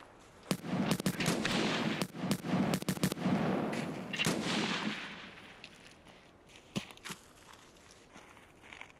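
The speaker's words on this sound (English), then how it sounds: "Oh, he's getting shot at." Gunfire in the video game Escape From Tarkov: a dense run of sharp, cracking shots over the first few seconds, tapering to a few scattered, fainter reports toward the end.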